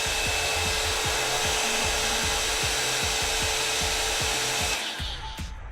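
A Mark Hill Glamour Puss hot air styling wand blows steadily on its cool shot setting, a continuous airy whoosh with a faint motor tone and light rhythmic rubbing as it passes through hair, cutting off near the end.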